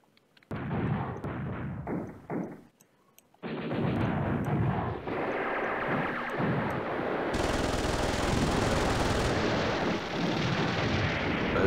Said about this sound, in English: let's just see if we can drop an airstrike over here